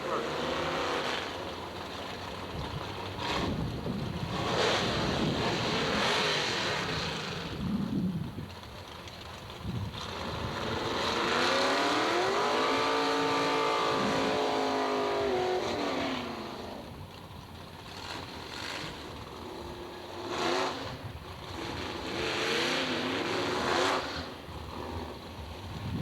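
Two drag racing cars, one a little blue Corvette, stage up side by side at the strip, their engines rumbling and revving in rising, wavering tones with loud wind noise, steady throughout.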